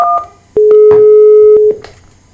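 Dialing tones ring out as a call is placed between extensions on a third-party SIP phone registered to a CUCM system: a few short beeps, then one long steady tone and a final brief beep, loud and close with no talking.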